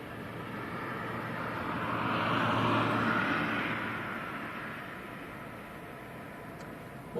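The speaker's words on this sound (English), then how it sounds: "Looks like Ryanair's on the move." A Ryanair airliner moving at Leeds Bradford Airport in stormy weather gives a steady roar that swells to a peak midway and then eases back, heard at a moderate distance over a constant broadband wind-like wash.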